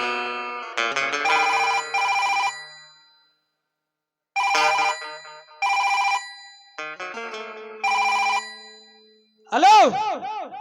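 A telephone rings in repeated electronic bursts with short gaps between them, loud and close, followed by a rising and falling warble at the end.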